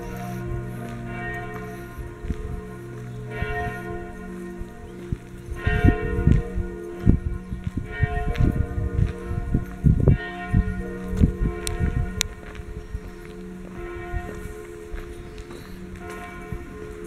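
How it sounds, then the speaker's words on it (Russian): Church bells peal in Naumburg, Germany, several bells ringing overlapping strokes, starting moderate and growing louder and denser in the middle before easing, with faint footsteps beneath. "Такой перезвон колоколов здесь"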